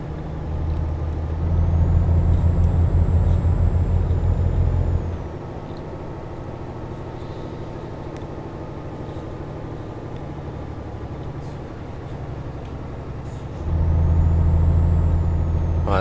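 A heavy truck engine in a truck driving game drones loudly at the start and again near the end, dropping to a quieter, steady rumble in between. Air brake hisses can be heard, and no one speaks.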